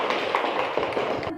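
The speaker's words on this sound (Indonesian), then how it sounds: "berikan tepuk tangan untuk" A classroom group gives a brief burst of applause, dense overlapping hand claps at close range that cut off abruptly after a second or so.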